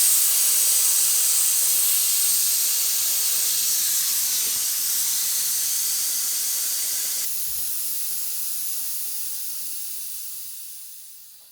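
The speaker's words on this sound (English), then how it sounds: "So I'm gonna let some air out of the front and we'll see just how low it goes" Compressed air hisses loudly and steadily out of the front air ride struts on a 1989 Buick LeSabre with a custom bolt-in setup, tapering off and fading toward the end, with no talking.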